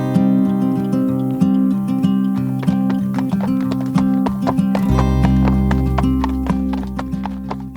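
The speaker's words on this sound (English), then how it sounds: "It was really fun to slow down and see the horses galloping down the road." A herd of horses gallops down a road in Pindos National Park near Metsovo, Greece, their hooves clattering in quick uneven beats over a loud, steady droning hum.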